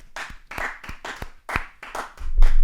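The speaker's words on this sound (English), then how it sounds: "Let's get some claps going." Sharp hand claps ring out at a steady pace, six or seven distinct strikes close to a podcast microphone, followed by a low rumble at the end.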